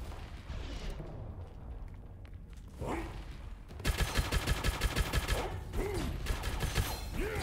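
Grenades and gunfire in the shooter Gunfire Reborn: mechanical clicks and scattered shots give way to a loud, rapid rhythmic burst of repeated firing, with dull booms mixed in, all fairly close.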